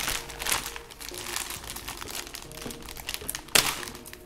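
Crinkly plastic packaging is handled and pulled open during a subscription box unboxing, continuous close crackling and rustling with a few sharper crunches and no voices.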